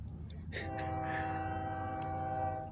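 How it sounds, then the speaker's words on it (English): A train crossing the causeway in Willard, Utah sounds a horn, a sustained tonal blast that sets in after a short knock and holds steady for about two seconds, moderately loud and somewhat distant over a low background rumble. "That's the train that goes over the causeway"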